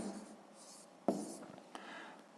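A pen writing out a sixth-grade maths solution on paper: faint scratchy strokes with a couple of sharper taps, quiet and close.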